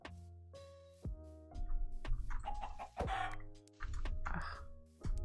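Chickens cluck in modded Minecraft, short game-animal calls layered over sustained tonal notes that repeatedly start and fall away, moderately loud with no talking.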